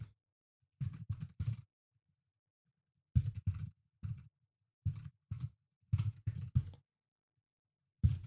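Typing on a computer keyboard during live game-engine programming in Rust: short clustered bursts of clattering keystrokes separated by silent pauses, close and fairly quiet.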